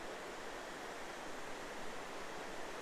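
Temperance River running through a rugged deep gorge on Lake Superior's North Shore, a steady broad rush of flowing water, even and fairly quiet throughout, no talk.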